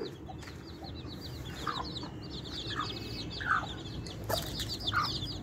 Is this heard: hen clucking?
yes